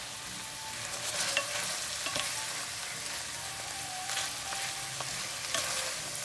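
Onions and tomatoes sizzle steadily in a hot pan while being stirred, a constant bright frying hiss with soft scraping of the spoon, close and without talk.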